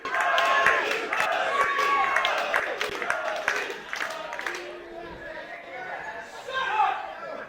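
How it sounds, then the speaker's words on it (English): A wrestling crowd roars and cheers for the wrestler Big Ugly, with clapping and shouts under loud commentary from a ringside announcer. "And listen to this crowd firmly behind the Big Ugly."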